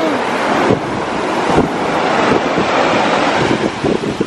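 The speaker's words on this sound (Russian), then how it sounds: "Накрыла дядя Вова волной." Sea waves washing onto a sandy beach where children draw in the sand, a steady loud roar of surf and wind noise with surges as the water rushes in, continuous for the whole stretch.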